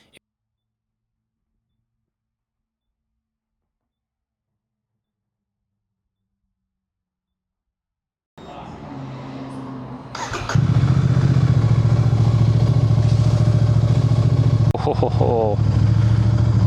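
After about eight seconds of silence, a Royal Enfield motorcycle engine starts up close by and settles into a loud, steady running rumble for the rest of the clip.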